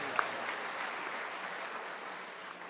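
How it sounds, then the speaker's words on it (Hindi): Audience applause at an Amanullah Khan comedy show in Muscat, a steady wash of many hands clapping at even loudness throughout, with no talk over it. "नहीं प्लीज़, इनके लिए बहुत सी तालियाँ,"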